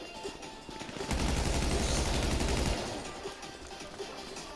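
Rapid automatic gunfire from a Grand Theft Auto V shootout, a dense loud burst lasting under two seconds in the middle, with quieter game ambience before and after.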